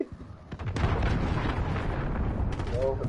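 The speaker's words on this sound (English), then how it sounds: "Enemy cruise missile incoming!" A cruise missile blows up in a military shooter video game, a heavy rumbling boom that swells after a brief lead-in and rolls on for a few seconds, with faint game voices around it.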